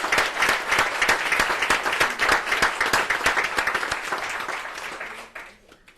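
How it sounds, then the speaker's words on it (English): An audience at a school board meeting applauds, dense, steady clapping from many hands in a room, holding strong for several seconds before thinning and fading away at the end. "Let's give these folks a big round of applause for a job well done."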